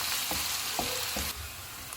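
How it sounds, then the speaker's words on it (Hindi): Onions fry in ghee with whole spices, giving a steady close sizzle with a few soft stirring knocks, a slight drop in level near the end. "प्याज डालेंगे, प्याज को नरम होने तक फ्राई करेंगे।"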